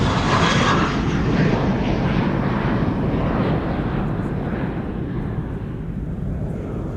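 Airliner PH-HXN, six years old and first flown in December 2018, departs Amsterdam Schiphol Airport with a loud, continuous engine roar that slowly fades as it climbs away.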